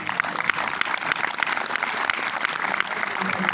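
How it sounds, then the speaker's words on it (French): An audience at a film premiere applauds steadily, a dense, even wash of clapping that carries on throughout at moderate loudness. "Et là, faut applaudir."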